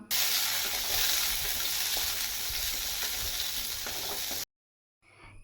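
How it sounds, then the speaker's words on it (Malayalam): Shallots and green chili sauté in coconut oil with a loud, bright sizzle and occasional stirring, which stops abruptly near the end, leaving near silence. "ശേഷം അതേ വെളിച്ചെണ്ണയിൽ തന്നെ കുറച്ച് ചെറിയുള്ളി, പിന്നെ ഒരു പച്ചമുളക് ഇവ ചേർത്ത് ഒരു 2 മിനിറ്റ് നേരം നന്നായിട്ടൊന്ന് വഴറ്റി കൊടുക്കാം."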